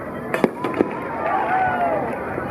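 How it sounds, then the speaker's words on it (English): Fireworks go off over the water during a Winterfest boat parade on the Las Olas Intracoastal, with a few sharp distant pops, then rising whistles under crowd noise and a steady outdoor hum. "Looks like coming up next, we got a fireworks show."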